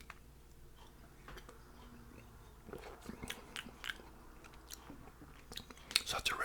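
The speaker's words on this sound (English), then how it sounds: "So I'm gonna try some of this my chili here" Someone chews homemade spicy chili up close, with soft wet bites and crunchy mouth sounds building toward the end. A few faint murmurs sit in the background.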